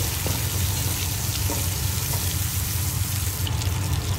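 Onion petals fry in a pan with a continuous, even hiss of sizzling oil, steady and fairly loud throughout with no voices.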